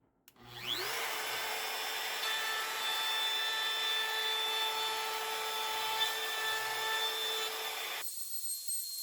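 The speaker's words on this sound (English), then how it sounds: "bring it over to my oscillating sander, and reshape that little" Oscillating sander reshaping the scoop of a laminate guitar headstock, a steady close motor hum that spins up quickly and runs evenly for several seconds before cutting off.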